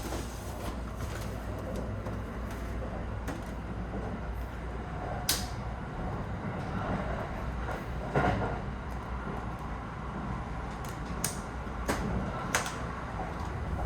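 A Japanese train rolls along with a low steady rumble inside the carriage, punctuated by occasional clacks and knocks from the cabin, quiet and continuous with no speech.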